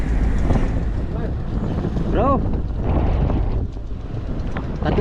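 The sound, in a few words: strong wind blowing at sea on a boat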